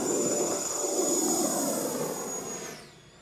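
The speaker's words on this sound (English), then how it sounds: "We're actually gonna go over here into the grass and show you a takeoff from the grass." A Horizon Hobby Viper 90mm RC jet takes off from grass, its ducted-fan engine a loud, steady high-pitched whine and roar that holds close, then fades and drops away near the end as it climbs off.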